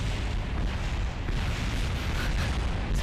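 Rocket explosions and shockwaves in the video game Kerbal Space Program, a dense, continuous roar of booms and bursts with heavy low rumble, loud and unbroken throughout.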